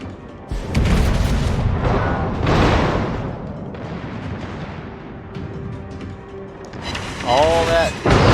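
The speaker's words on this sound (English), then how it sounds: "All that secondary fire heading over there on that Republic." A battleship's secondary guns fire in the World of Warships video game, a steady barrage of loud booms and rumbling shell blasts, with a voice talking over the gunfire.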